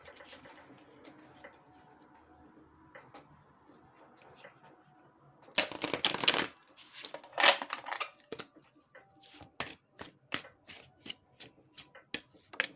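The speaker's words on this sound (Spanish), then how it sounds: "Vamos a sacar unas cartas consejo de los guías." Tarot cards being shuffled and drawn by hand, a soft riffling burst followed by a run of crisp, close card snaps and taps of uneven rhythm over quiet background.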